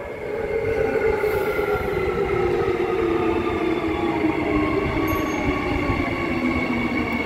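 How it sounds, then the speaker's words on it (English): A metro train rolls into the station with a loud, steady roar and a falling tone as it slows, wheels rumbling. "when the train comes in like this"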